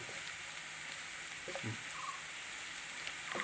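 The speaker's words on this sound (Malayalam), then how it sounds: "രണ്ട് ഉണക്കമുളക് നടുക കീറി ഇടുന്നു" Two dried red chillies, split down the middle, sizzle in hot oil for a lentil curry, a soft, steady frying hiss with a few small pops and stirring clicks, faint and close with no voices.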